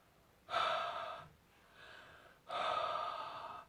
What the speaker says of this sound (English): essentially I need to breathe on it